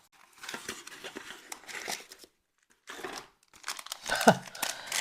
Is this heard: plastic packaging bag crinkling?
yes